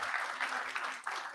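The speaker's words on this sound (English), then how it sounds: "a round of applause for them" Audience clapping at a corporate results announcement, a short burst of continuous applause from many hands at moderate level.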